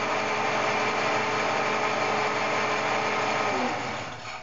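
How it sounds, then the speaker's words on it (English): Fehlmann Picomax 50 CNC milling machine spindle motor running steadily at 1400 RPM in its highest speed range, a continuous close, loud mechanical whine and hum that eases slightly near the end. "So that's the motor running at 1400 RPM now."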